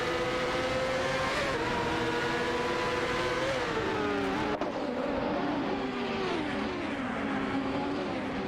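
Engines of AI-driven race cars on an oval track in a racing video game drone steadily in a close battle for position, their pitch sliding up and down as the cars shift. No voices.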